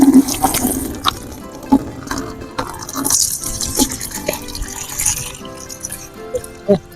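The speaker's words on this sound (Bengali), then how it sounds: "এটা হচ্ছে তরল দুধ যেটাকে বলে আমি এটা ঢেলে দিচ্ছি পুরোটাই" Liquid milk from half-kilo packets poured in one go into a bucket while preparing for an iftar party, a steady splashing, gurgling stream close by with a few louder splashes and bumps.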